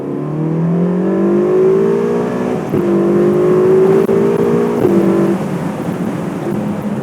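A Ferrari California T with a turbocharged V8 revving hard, rising engine pitch climbing through several gear changes with brief dips at each shift, loud and close, no talking.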